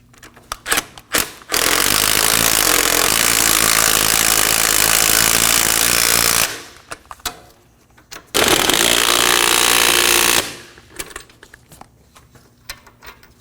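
Power tool driving the front hub assembly bolts on a Nissan Sentra, two long loud sustained bursts of whirring with brief clanks and handling noises before, between and after.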